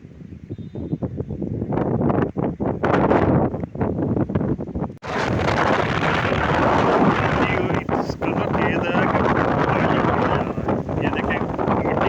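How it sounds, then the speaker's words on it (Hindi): Strong wind and heavy rain roar across an outdoor used-car auction yard during a storm, a loud, continuous broadband rush that buffets the microphone and swells sharply partway through, with indistinct voices underneath early on. "बारिश और आंधी बहुत तेज़ आ गई है"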